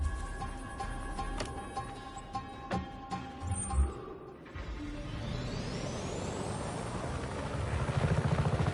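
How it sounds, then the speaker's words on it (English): A helicopter in the video game Just Cause 3 whirs and rises in pitch as its rotor spins up, following clanks and thuds, growing steadily louder with no talking. "Take this chopper, Fratre."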